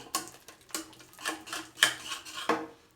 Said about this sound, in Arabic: نضيف هذيك الزبده ونخلطهم حتى